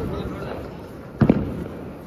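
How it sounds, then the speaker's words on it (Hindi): A single Diwali firecracker bursts at mid distance with a sharp bang and a short crackling tail, set against steady background noise and voices during a festival night in Nathdwara. "पहली बार पटाखे नहीं छोड़ रही"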